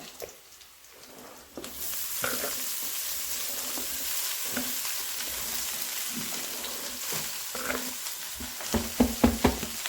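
Greens tossed into a pan with softened onions for a Kongu Nadu–style keerai poriyal, a steady close sizzle with stirring scrapes and clinks that grow busier near the end, no talk.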